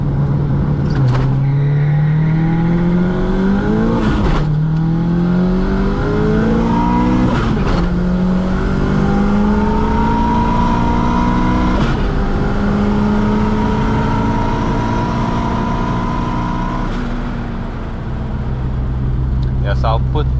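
A 1.8T Mk2 Golf with an 02J helical limited-slip gearbox launches and accelerates hard on a road, its loud engine climbing through repeated rising revs with quick shift breaks, heard from close by, with talk over it.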